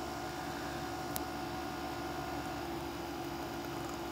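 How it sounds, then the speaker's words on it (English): A window air conditioner set down on a garage floor runs with a steady, loud broadband hum and whoosh, with a constant low drone beneath and no other voices or sounds. "It's a window AC that I just threw down here"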